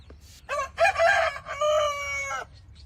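A rooster in Thailand crows once, close and loud, its long cock-a-doodle-doo falling in pitch and trailing away, set against a faint low background hum.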